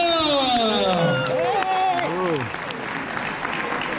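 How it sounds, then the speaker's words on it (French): A crowd claps and cheers for the winner of a night-time 12-hour endurance race, the applause rising under a loud announcer's voice and then thinning out. "Un tonnerre d'applaudissements pour Amélie Auchard."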